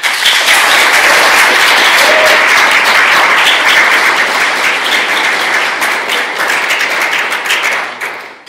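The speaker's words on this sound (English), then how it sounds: "I think they deserve a round of applause." A loud, sustained round of applause from the audience at a developer portal awards gala in Amsterdam, dense clapping lasting over eight seconds before tapering off at the end.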